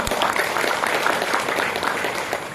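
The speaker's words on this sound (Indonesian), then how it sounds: "kalau setuju tepuk tangan yuk bagi kita semua" Audience applause at a parenting talk, a dense, steady wash of clapping hands that fills the whole stretch at even loudness with no voices on top.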